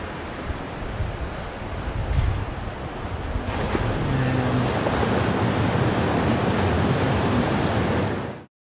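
Ocean surf rolls in a constant broad roar below a third-floor oceanfront deck, mixed with wind buffeting the microphone and swelling louder partway through.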